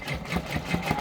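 A Brother embroidery machine stitches out a tiled Christmas stocking scene, giving a steady, close mechanical hum with a quick repeating needle rhythm throughout.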